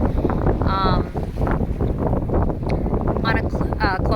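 Heavy, gusty wind buffets the microphone aboard a sailboat on a close haul on Lake Erie, with only the jib up, making a loud, continuous rumble, and brief whistling tones and a voice are heard underneath.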